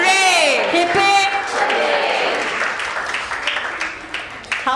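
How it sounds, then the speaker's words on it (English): Audience at a children's sports and annual day applauding, a dense spread of clapping that carries on after a loud voice opens over the start and then fades a little toward the end. "Please give them a big round of applause to all the children of SuperKiidz."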